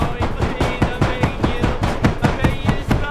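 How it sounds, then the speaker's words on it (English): Repeated heavy thuds of a head banging against an attic ceiling in the horror film Hereditary, a steady rhythm of roughly three to four knocks per second, loud and close with no talk. "he begs her to stop banging her head on the ceiling"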